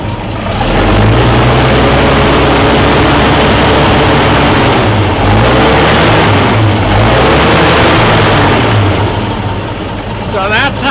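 A bus engine with a carburetor runs steadily at idle, a continuous loud low rumble with a faint shifting hum throughout.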